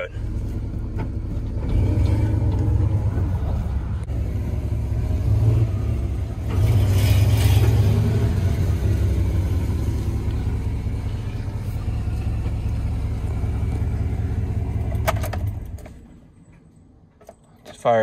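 A truck engine is restarted and idles with a steady low drone for about fifteen seconds, close by and fairly loud, then cuts off abruptly.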